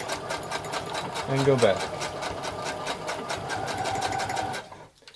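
Rapid, rhythmic mechanical whirring of a sewing machine stitching harness belt cording, running steadily for several seconds before stopping, with a person talking briefly over it.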